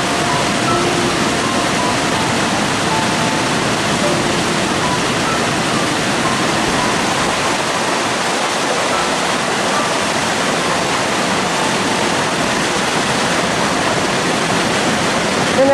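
Loud, steady rush of water pouring into a canal lock as the paddle opens on the Marple flight of the Peak Forest Canal, a continuous roaring torrent close by with no letup.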